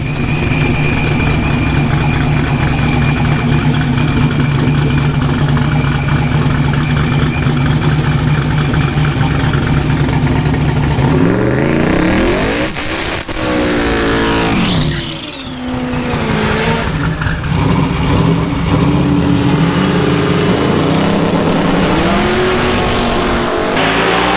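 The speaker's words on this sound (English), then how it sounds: "this is the finals for our twin turbo Camaro. It's up against this ProCharge C6." Twin-turbo Camaro drag racing a ProCharged C6 Corvette in the LS Fest finals: loud, sustained engine roar fills the run, with a rising, sweeping whine partway through as the cars launch and pass, then a brief dip before the noise continues.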